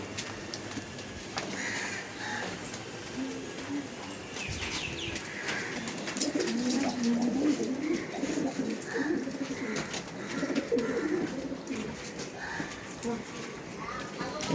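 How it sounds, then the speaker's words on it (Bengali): Valuable pigeons, including rose pigeons, cooing at a home loft, the soft repeated coos running through a busy bed of flapping, rustling and talk. "সমস্ত পায়রা ভালো পায়রা"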